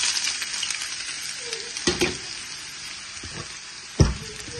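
Chopped onion frying in hot oil for cabbage bhaji, a steady close sizzle throughout with a couple of brief clatters of a spoon or pan.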